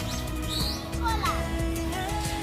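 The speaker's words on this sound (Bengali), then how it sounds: "প্রচুর প্রচুর টিয়া পাখি দেখা যাচ্ছে তো খুব সুন্দর ডাকছে ওরা" Many green parakeets chirp and call in short, bright bursts, several overlapping at middling distance, over a steady low background rumble with faint murmuring.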